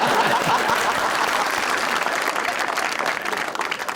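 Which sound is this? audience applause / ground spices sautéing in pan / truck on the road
audience applause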